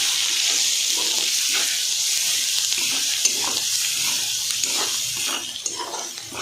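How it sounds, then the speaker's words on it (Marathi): A spice tempering of turmeric and a pinch of garam masala fries in hot oil for shengole. A bright, constant sizzle hisses close by, with no voices. "आणि हे मस्तपैकी फ्राय होऊ द्यायची फोडणी."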